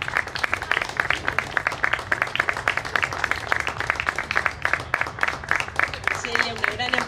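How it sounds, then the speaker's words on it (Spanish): Audience at a homemade bread contest award ceremony at a cultural centre claps steadily for about seven seconds, a dense, even patter of many hands filling the room, with a voice briefly audible near the end. "pedimos un fuerte aplauso"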